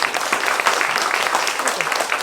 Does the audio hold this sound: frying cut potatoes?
no